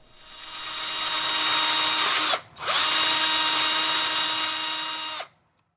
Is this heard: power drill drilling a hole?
yes